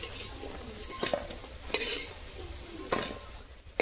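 Lentil pakoras with potato, ginger and chili are stirred in hot oil, with a steady sizzle and several sharp scraping, clinking strokes of a utensil against the pan.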